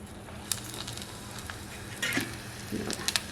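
A little flour batter dropped into hot oil in a kadhai to test it for crab bhajji crackles softly, with a few sharp pops and brief bursts of sizzle rising near the end.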